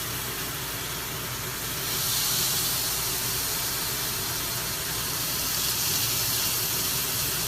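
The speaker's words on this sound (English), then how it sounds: "we should hear like a good sizzle, but a good way to test it is to put in, yep, some salt" Filet mignon sears in a hot pan, a loud, constant sizzle that swells slightly partway through, with no talking.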